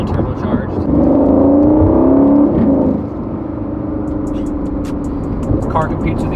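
A 2019 Aston Martin Vantage turbocharged V8 rises in pitch as it accelerates for a couple of seconds, then settles into a steady interior drone with road noise.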